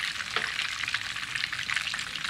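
Ground beef filling for rellenos cooks in its juices in a pan, a continuous near frying hiss with crackle and faint stirring, no voices.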